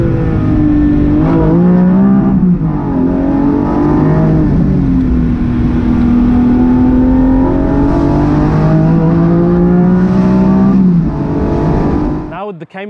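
A Porsche 718 Spyder fitted with a particulate filter climbs the Goodwood hill. Its engine drones loud and close, with revs rising and falling repeatedly over a long sustained run before cutting off abruptly.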